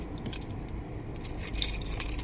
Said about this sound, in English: So all you have to do is hook your keys like this